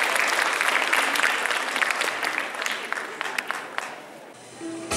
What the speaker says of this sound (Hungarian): úgyhogy hatalmas tapsal fogadjátok őket